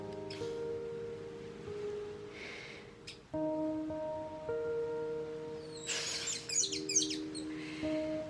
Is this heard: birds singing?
yes